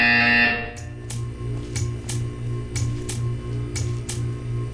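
A buzzer from the video game Portal 2 blares in a test chamber, a high tone that cuts off and gives way to a rhythmic pulsing hum with regular ticking beats, steady and close.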